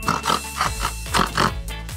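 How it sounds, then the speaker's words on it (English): A pig at an indoor trampoline park oinks and grunts in quick, close, repeated snorty bursts, loud and alone with no talk. "This is a pig."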